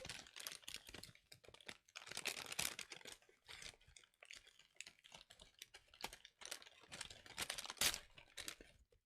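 A McDonald's paper bag for an iced tea is crinkled and wrestled open in quiet, irregular bursts of crackling paper, close but soft, with no voices.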